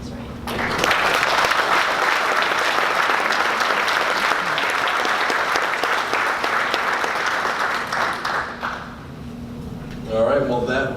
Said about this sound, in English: One more round of applause for all of our winners.